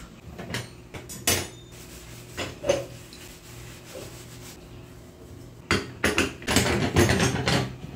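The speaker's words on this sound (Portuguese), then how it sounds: "Vamos ver se dá tempo de eu pelo menos limpar meu fogão" A kitchen stove being scrubbed clean, with bursts of rough rubbing and rasping alongside clattering pots and pans, coming in irregular close-up spurts that grow busier toward the end.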